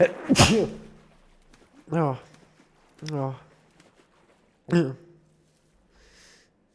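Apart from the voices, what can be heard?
sneeze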